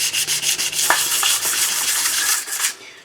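Abrasive sanding strokes rub burrs off Triumph Scrambler motorcycle heat shields, a steady close hiss of back-and-forth scraping that runs continuously before tapering off at the end.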